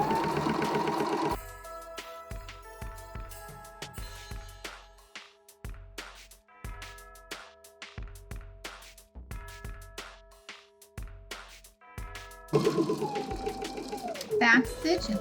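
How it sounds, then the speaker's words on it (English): A sewing machine runs in short, close bursts at the start and end while stitching bias binding around a laptop sleeve. Plucked musical notes fill the gap between the bursts. "Now what we're going to do is stitch in this first fold all the way around."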